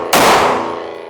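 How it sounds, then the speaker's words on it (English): A single sharp report from a Fusion Firearms XP Pro metal-frame pistol fired strong hand only, loud and close, with a bright ringing decay that trails off over about a second. "Shooting strong hand only."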